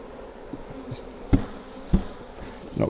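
Honey bees buzz around an open hive during a split, a steady low drone with a few sharp knocks as frames are handled and bees are knocked in, close and moderately loud.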